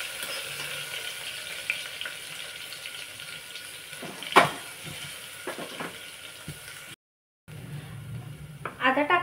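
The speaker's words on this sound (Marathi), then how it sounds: "हे व्यवस्थित परतून घ्यायचं आपल्याला" Ginger garlic paste with a pinch of asafoetida sizzles steadily in a pan for a spicy dal, with a soft continuous frying hiss, a few sharp stirring clicks, and a brief cut near the end.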